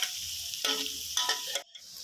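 Garlic frying in a pan until golden, a steady close sizzle with bursts of stirring and scraping, then a brief pause before the sizzling resumes.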